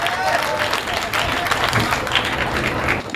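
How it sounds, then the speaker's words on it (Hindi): An audience at a lively humorous talk claps loudly and continuously, a dense wash of applause that holds steady throughout with voices mixed in. "जोरदार ताली बजाई है।"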